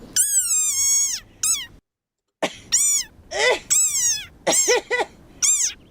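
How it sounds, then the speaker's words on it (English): Very angry frog giving a war cry: a series of loud, sharp, squeaky cat-like yelps and wails in rapid bursts, with one short silent pause, close and alone. "this is the sonorous war cry of a very angry frog"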